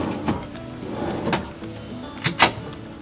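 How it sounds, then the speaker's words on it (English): Drawers slide open and shut inside a 2019 Hymer Aktiv 1.0 Loft Class B camper van, making about four short scraping, thudding strokes spaced unevenly over a low hum. They are close and moderately loud, with no speech. "And then you have a few drawers over here too."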